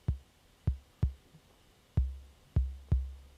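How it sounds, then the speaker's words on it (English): Six deep, booming 808 kick drum hits with long low tails, spaced irregularly, each thump decaying slowly into near silence. "if you've got a normal 808 sound, it will probably sound like this"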